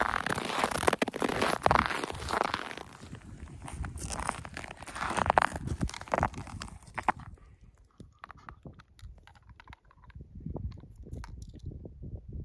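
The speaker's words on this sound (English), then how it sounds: "That is the sound of packed snow." Crunching footsteps on packed snow over ice on a January day in Ontario, Canada, a steady run of crisp, gritty steps close by, then thinning into quieter scattered crunches.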